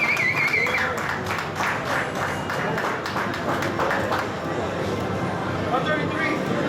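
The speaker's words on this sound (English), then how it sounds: "Let's give a round of applause for Yakubu Amidu" Applause from the audience at a boxing weigh-in for Yakubu Amidu, a dense patter of clapping that runs steadily under someone talking over a loudspeaker.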